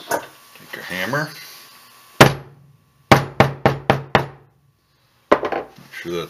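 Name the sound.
hammering leather wallet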